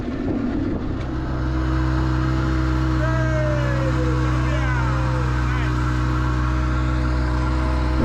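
A fishing boat engine idles steadily at sea off The Gambia with a low, constant hum, fairly loud, and faint whining tones drift over it.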